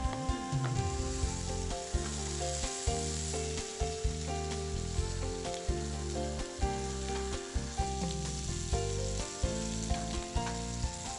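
Kebab sticks frying in hot oil, giving a loud, steady sizzle with bubbling, overlaid by rhythmic tonal music that pulses throughout.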